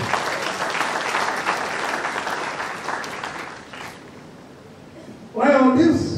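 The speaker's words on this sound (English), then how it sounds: "A round of applause for all of us." An audience at a faculty of social sciences guest lecture claps steadily, the applause gradually fading out, followed by someone speaking loudly near the microphone.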